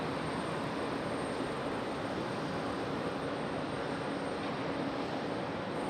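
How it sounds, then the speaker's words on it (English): A Delta Boeing 757 airliner on final approach at Raleigh-Durham airport in stormy weather, a steady, broad jet roar that holds at an even level throughout, with no voices over it. "the Delta 757 making that final turn on to final"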